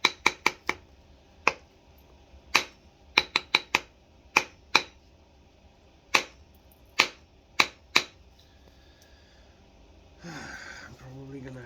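Stone flake being pressure flaked, giving a series of sharp, crisp ticks and snaps at irregular intervals, close and distinct over quiet background, ending with a rustling shuffle.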